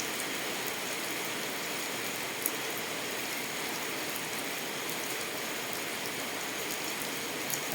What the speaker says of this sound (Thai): ฝนตกนะคะในตอนเช้านะคะ